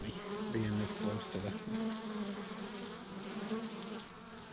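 Bees swarm around a feeder, a dense steady buzz close by that holds without a break and with no talking over it.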